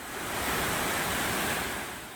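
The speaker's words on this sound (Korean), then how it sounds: "이렇게 쌍둥이 폭포인데요." A twin waterfall on Dutasan mountain in Korea, still flowing in midwinter, gives a steady, dense rush of falling water that fills the whole clip with an even roar and no voices.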